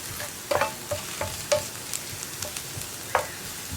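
Onions fry in a pan for a coconut chammanthi, a soft steady sizzle broken by occasional sharp scrapes and clicks of a spoon stirring, close and fairly quiet, with no voices.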